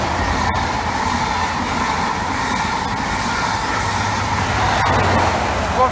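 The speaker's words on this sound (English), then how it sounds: "This is probably the train we saw earlier," Train passing at Dawlish Warren station, a loud, continuous rumble of rolling wheels with a few sharp rail clicks, staying close and steady throughout with no talk.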